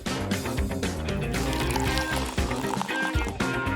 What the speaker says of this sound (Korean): 다 섞고 나면 병 안에 다시 부어주세요